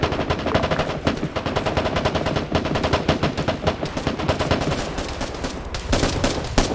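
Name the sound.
gunfire in a military video game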